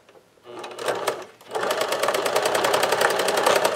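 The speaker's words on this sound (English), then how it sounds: "I'm going to stitch right across here to make the bottom a little bit flat." Sewing machine stitching straight across folded fabric to square off the bottom of a belt, a short burst first, then a steady, loud, rapid needle rhythm running close up.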